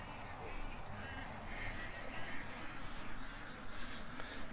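Ducks quacking in a backyard, a faint, continuous chatter of several birds heard at a distance with outdoor background noise.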